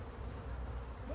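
Honeybees buzz on hive frames during a split inspection, a low, steady hum of many bees close by, fairly faint and continuous.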